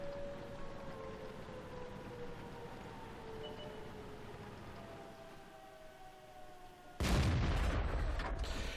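A T25/2 tank in the video game World of Tanks fires its cannon on the Highway map: a sudden loud, close blast that cuts through a steady engine drone after a long run of motor hum.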